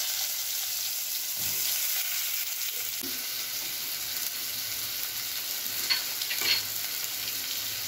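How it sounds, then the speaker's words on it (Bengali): Eggplant pieces fry in a pan of leftover oil, a steady soft sizzle with a few light clinks and stirring scrapes, no voices. "এই তেলের মধ্যেই আমি বেগুনগুলো সামান্য ভেজে নিই।"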